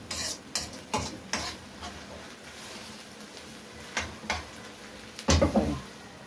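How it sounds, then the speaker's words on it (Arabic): Liver sautéing in a pan with onion and garlic gives a low, steady sizzle, broken by several sharp scrapes and stirs, with a louder clatter of stirring near the end. "احط الكبده تتشوح مع البصله ومع التومه"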